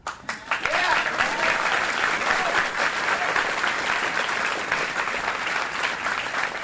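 At a Wisconsin congressional primary debate, the audience breaks into loud, dense applause that starts with a few sharp claps and swells into sustained clapping lasting several seconds, close and steady throughout.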